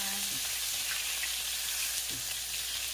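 Ginger sautéing in a pan for chicken tinola: an even, steady hiss of frying oil throughout, with a couple of brief low sounds from the pan rising over it.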